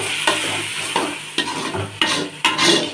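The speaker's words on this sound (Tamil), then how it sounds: "வெங்காயம் நல்லா வதங்கிடுச்சு இப்போ கட் பண்ணி வச்சிருக்கிற தக்காளியை சேர்த்துக்கலாம்" Chopped tomatoes stirred into sautéing onions in a pan for mushroom gravy, a close, loud sizzle broken by repeated scraping stirs of a spoon, roughly one every half second, with no talking.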